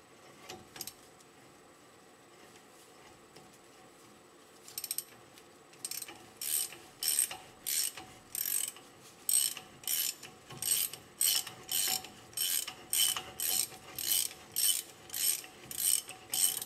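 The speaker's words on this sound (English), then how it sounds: "turning it while you tighten it suits the bearing a little better" Ratchet with a large 2 3/4 inch socket tightening an axle nut on a 1996 Ford F250 7.3L diesel 4x4, a few faint clicks then steady rhythmic ratcheting strokes, close and clear.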